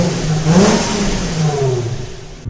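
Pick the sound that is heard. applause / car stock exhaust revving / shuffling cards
car stock exhaust revving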